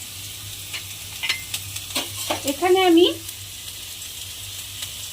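Onion fries in oil with ginger paste for a cauliflower dum, making a soft, steady sizzle with brief stirring scrapes while a voice speaks briefly nearby.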